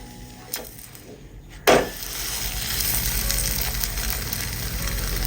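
Porotta flatbread sizzling steadily in hot oil on a pan over low to medium flame, with a sharp clatter as it is flipped before the frying swells back to a continuous crackle.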